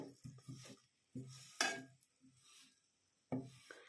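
Jaggery is stirred in hot ghee in a pan for tilgul: close, quiet scraping and knocking strokes of a spoon come in irregular bursts, with a faint sizzle in between.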